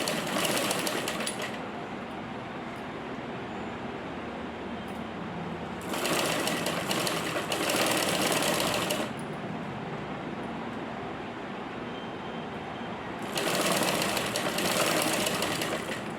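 A sewing machine stitches lace onto a blouse back neck, running in a continuous loud mechanical whir that surges in three distinct faster bursts between steadier stretches, close by with no talking.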